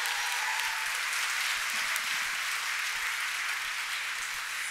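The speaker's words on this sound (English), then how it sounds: "Let's give them another round of applause." Sustained applause from a large crowd, steady and fairly loud, with no speech over it.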